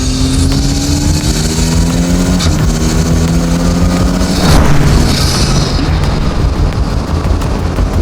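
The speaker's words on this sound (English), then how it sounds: "Half of the rev range, all it wants to do is make those boosty sounds." An Ariel Atom 4R sports car's turbocharged engine revs hard and loud up close, rising in pitch through the gears with a brief drop and shift, then a whoosh of boost and sustained roaring.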